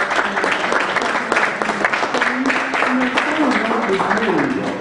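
An audience at a panel discussion applauds, a loud, sustained patter of clapping with someone speaking over it.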